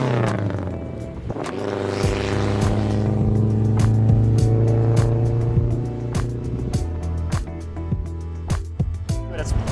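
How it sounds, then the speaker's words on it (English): A 1962 Mercedes-Benz 190 SL's engine revs up strongly and holds a steady high drone with carburetor intake noise, then eases off with clicks and road bumps, close and loud. "The engine revs really nicely. It's got the nice little intake sound from the carbs"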